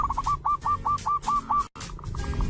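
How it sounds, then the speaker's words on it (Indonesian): A zebra dove (perkutut) repeats its soft cooing call in a quick, even rhythm of about eight phrases, clear and fairly close, then a brief break and a few weaker notes. "Setiap jenis burung perkutut memiliki kicauannya khas yang tidak dimiliki oleh jenis burung perkutut lainnya."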